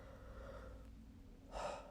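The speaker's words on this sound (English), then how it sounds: "that was a yawn." A single short yawn in a home garden, faint and close, rising as a brief breathy swell near the end after quiet background hush.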